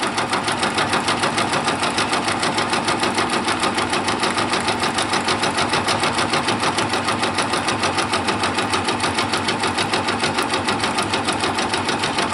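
Brother Persona PRS 100 embroidery machine stitching letters onto the back of a hat, a steady rapid mechanical clatter with a fast even needle rhythm, loud and close with no talking.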